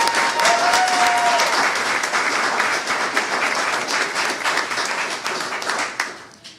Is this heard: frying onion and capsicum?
no